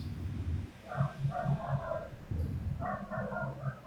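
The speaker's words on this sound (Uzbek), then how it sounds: "It's a dog." A dog barks in short repeated bursts at moderate distance, mixed with whimpery yips, while people talk nearby.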